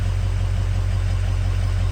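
A 6.0L Ford diesel truck engine with freshly replaced fuel filters idles steadily up close, a smooth low rumble holding an even pitch with no revving.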